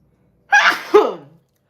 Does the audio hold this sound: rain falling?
no